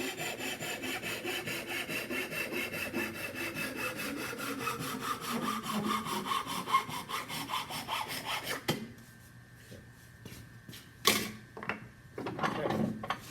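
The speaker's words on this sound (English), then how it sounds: "take the saw, put it into a vise, put the wood there, watch your fingers, then you try to cut as close as you can" A hand saw cuts wood clamped in a vise, making steady rhythmic rasping strokes for about nine seconds, then a few scattered knocks and scrapes follow.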